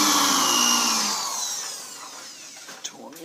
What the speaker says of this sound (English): I'm just going to countersink this guy in